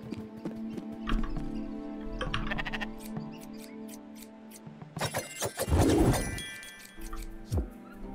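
Sheep bleat amid clip-clopping hooves in the Spiritfarer farming video game, with game music and chimes, a louder bleating burst near the middle and no talk.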